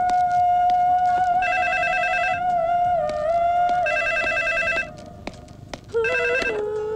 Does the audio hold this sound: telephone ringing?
yes